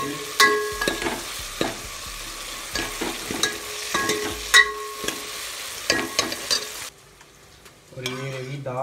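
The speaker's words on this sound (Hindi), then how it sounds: "चलो तो अभी हम लगा रहे हैं इधर तुड़का, दाल को, प्याज, टमाटर और हरी मिर्च और लहसुन डाला हुआ है।" Dal tempering (tadka) with onion, tomato, green chili and garlic, giving steady close sizzling with repeated stirring clinks and scrapes, falling quieter near the end.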